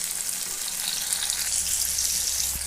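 Chopped tomato sautéing in a pan, a dense, steady hiss of frying oil with a faint crackle throughout, close and uninterrupted, with no voices.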